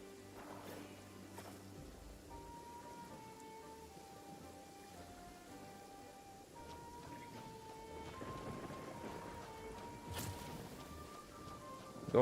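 A thunderstorm with steady rain in Genshin Impact, soft rolling thunder and rainfall under a gentle melodic music line, swelling louder toward the end.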